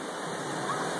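Steady rushing flow of water from a lazy river at a water resort, continuous and close, with a voice speaking briefly over it.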